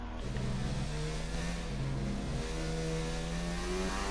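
Two McLaren race cars roar in a PS4 racing game at Spa during qualifying, engines revving continuously with shifting harmonic pitch, loud and close with no voices.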